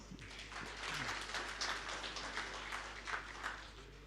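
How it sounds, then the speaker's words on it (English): Summit audience at a Global Rice Summit applauding a speaker, the president of the Indian Rice Exporters Federation, with a steady wash of clapping heard from a distance, fairly faint and continuous throughout. "Please welcome our next speaker, Dr. Prem Garg, President, Indian Rice Exporters Federation, IREF, with your energetic claps"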